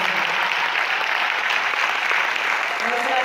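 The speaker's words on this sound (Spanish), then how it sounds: "si le vas a dar un aplauso a Dios," Applause from a church congregation at an evening worship service, a dense steady roar of many hands clapping that fills the whole stretch without pause, with crowd noise mixed in.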